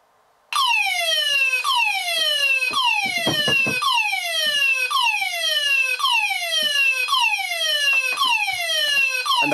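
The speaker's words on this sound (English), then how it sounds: "testing the smoke detection part of the combined optical smoke and heat detector" Combined optical smoke and heat detector on a shed fire alarm system sounding loudly and nearby, a rapid repeating descending sweep tone that starts abruptly and continues steadily, with a few faint knocks underneath.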